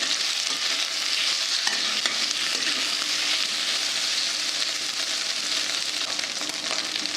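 Potatoes sauté in a pan for sabudana khichdi, giving a steady, close sizzle with scraping stir strokes throughout and no talking.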